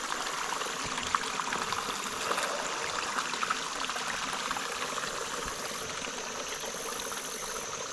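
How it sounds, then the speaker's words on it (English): A small waterfall stream on Peavine Island rushes steadily, a continuous hissing wash of water heard close and unbroken throughout, with no voices. "And back to our little waterfall"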